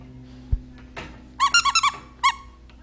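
A dog's squeaky toy gives a quick burst of five high, close squeaks followed by one more after a short pause, with a soft thump and faint rustling beforehand.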